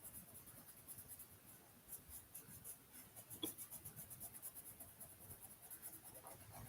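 Quiet, rhythmic scratching of a colored pencil rubbing back and forth across paper, close up and steady with no talking.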